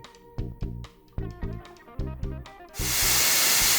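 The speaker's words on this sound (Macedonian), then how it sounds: "Го чујам месото внатре." Meat sizzles inside a cooking pot. Several rhythmic knocks come first, then a loud, steady hiss takes over to the end.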